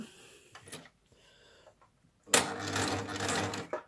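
A Baby Lock Ovation machine sews fabric with a decorative picot stitch. A few faint clicks come first, then a loud burst of rapid, buzzing stitching runs close by for over a second.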